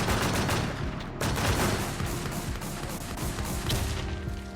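Rapid, loud gunfire fills a survival video game battle, with sustained bursts of shots cracking continuously and a sharp volley near the start and again toward the end.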